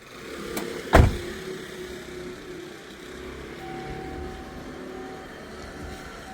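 A Relive N1 electric vehicle reverses after a sharp clunk near the start, then a low steady hum with a faint, thin electric whine rising in the second half. The sound stays close and fairly quiet, with no voices.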